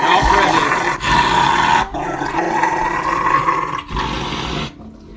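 A dog growls steadily, a loud, close, rumbling snarl held for several seconds, broken by a few short pauses for breath.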